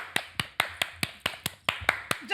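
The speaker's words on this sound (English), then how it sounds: "Just a soul clap." A single person's sharp, evenly spaced hand claps, about eleven of them, close and crisp against a quiet background, with a brief voice at the very end.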